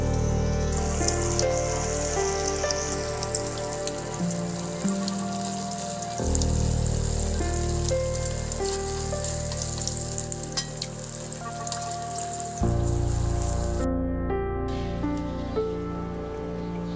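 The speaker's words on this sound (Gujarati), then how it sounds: "તેલ આપણું આ ગરમ થઈ ગયું છે તો તેમાં આપણે આ બોલ્સ તળી લેવાના છે" Vegetable Manchurian balls deep-fry in hot oil with a dense, crackling sizzle that bubbles steadily at close range. The level shifts slightly at a few points, and there is no speech.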